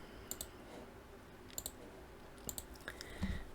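Mouse buttons click sharply at a computer while working in AutoCAD, in several quick double clicks spaced a second or so apart, close and fairly quiet.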